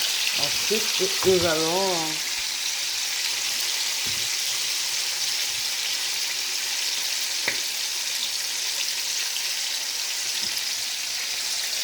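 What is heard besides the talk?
stirring potatoes and chicken frying in a pan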